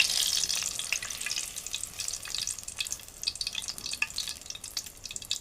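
Tomato vada fries in hot oil with a steady, close sizzle and crackle, bright and dense throughout, with no voices.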